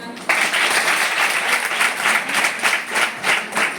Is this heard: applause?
yes